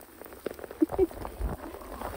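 Heavy rain pattering steadily on surfaces outdoors during mushroom foraging, a dense close wash of drops with a few louder splashes.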